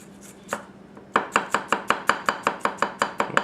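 A Tsutomu Kajihara 210mm gyuto knife chopping on a cutting board: a couple of tentative taps, then a steady run of about a dozen evenly spaced, crisp, close chops, with no voices.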